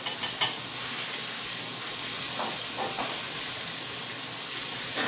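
Red snapper fries in hot, smoking oil, giving off a steady, even sizzle and hiss that fills the space with only small crackles rising out of it, close and continuous without a break.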